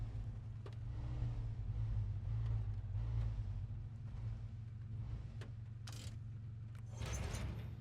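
A heavy truck in SnowRunner hitches a fuel carrier trailer over a steady low engine drone, with a few sharp mechanical clunks and latching clicks near the end.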